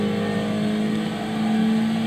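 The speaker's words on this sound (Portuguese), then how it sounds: "O motor ronca bonito, como vocês podem ver." A 1970s Alpine A110 1600S with a five-speed manual gearbox, heard from inside the car in Gran Turismo 6, gives a steady, droning engine note that holds at an even pitch throughout, with no one speaking.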